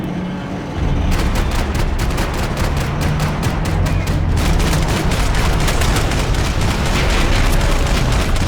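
Rapid gunfire in the video game Max Payne 3, a loud, sustained barrage of closely spaced shots cracking in quick rhythm for several seconds after a brief lull, dense and unbroken.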